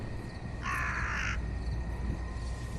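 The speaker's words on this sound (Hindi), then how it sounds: "हाँ भाई कौवे" Crows caw in the Indian horror video game Bhangarh: a single harsh, drawn-out caw rises over a low ambient drone, moderately close, with no talk.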